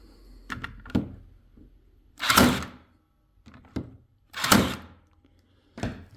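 A Milwaukee M12 cable stapler fires staples for data cabling, a few sharp, close mechanical snaps and thunks spaced a second or two apart, with quieter handling clicks between them.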